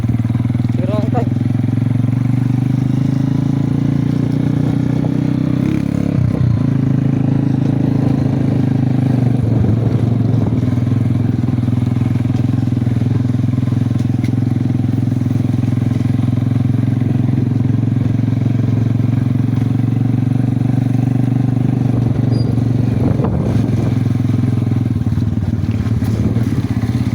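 A motorcycle engine runs close by in a steady, loud low drone for the whole stretch, with slight swells in pitch suggesting light revving and faint voices or clatter now and then.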